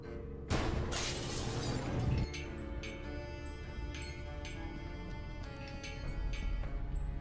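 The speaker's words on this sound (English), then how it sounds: "I got rid of the glass above the door to the lab" Glass above a lab door shattering in the point-and-click game Gibbous, one loud crash with a spray of tinkling shards, then a lingering clinking tail over steady game background sound.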